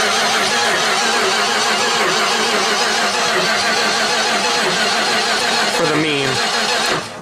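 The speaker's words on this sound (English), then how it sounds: "So the starter works, and it sounds like shit like every Chrysler starter does" Starter motor on a 1978 Dodge D100 that sat almost 20 years, cranking loudly and steadily close by for several seconds before cutting off, with voices talking over it.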